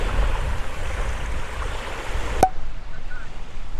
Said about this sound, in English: the water is pretty clear here, and I love the sound of the ocean.